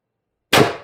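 An X-68 Stormtrooper CO2 launcher running a 36g CO2 cartridge fires a single 10g riot ball after a short silence, giving one sharp, loud close pop with a brief decaying tail.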